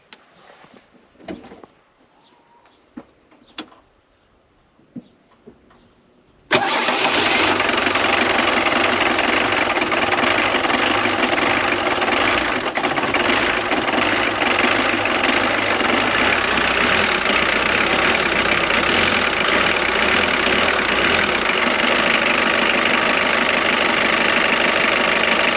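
A Jeep diesel engine cranks and fires up abruptly after a few quiet clicks and handling noises, then settles into a loud, steady, knocking idle that runs continuously close by.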